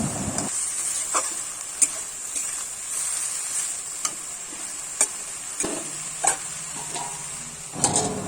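Food is stirred in a cooking pot with a soft steady sizzle, broken by several sharp scraping clicks of a spoon against the metal spaced a second or so apart, close and moderately quiet, with no talking.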